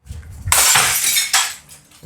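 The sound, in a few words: glass being thrown and shattered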